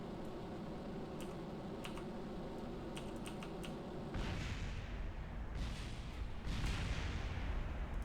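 A rocket bursts apart on the runway in Kerbal Space Program, a sudden loud blast over a steady engine roar, followed by further rumbling booms, close and without talk.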